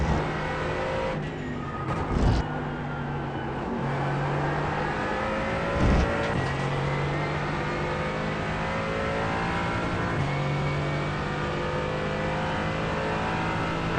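A Mercedes AMG GT4 race car lapping Portland International in a racing simulator drones with a loud, steady engine note, pitch rising through the gears with brief dips at each shift, heard alone without talk.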